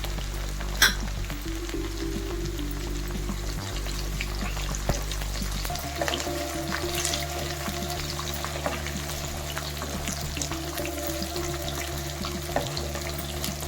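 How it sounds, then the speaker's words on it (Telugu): Onions and curry leaves fry in oil for a green chicken curry, a continuous close sizzle with occasional stirring scrapes over a low steady hum. "మంచిగా కలర్ మారే వరకు వేపుకుందాం."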